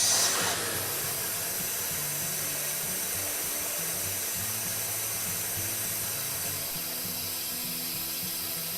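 A StoneAge BTC 100 boiler tube cleaner running in forward and reverse, producing a steady loud rushing, hissing flow with a low mechanical hum throughout, with no talk.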